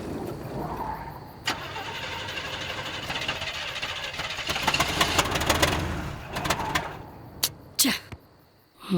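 A car engine with a fault runs rough and loud, then sputters and cuts out, leaving a few sharp clicks and knocks before it falls quiet.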